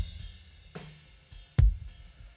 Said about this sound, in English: Now the bass drum sounds like this.